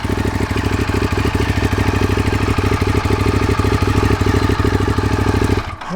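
A 2011 Ducati Diavel motorcycle idles close by, a loud steady throbbing engine rumble with a fast even pulse that runs for several seconds before briefly dipping near the end.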